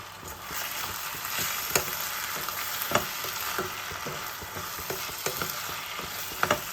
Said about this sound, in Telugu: ఇప్పుడు టమాటా ముక్కల్ని వేసేద్దాం